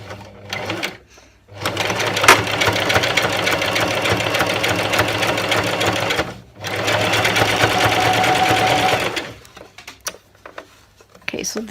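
A sewing machine stitches the outline of a fabric headband shaped like a Monstera leaf. The steady, fast mechanical whirring runs in two long passes with a short stop between them, and light handling noises follow at the end.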